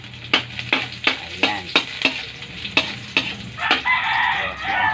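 Garlic sautéing in a pan for sopas, a soft sizzle beneath repeated spatula scrapes and taps, with a rooster crowing nearby toward the end.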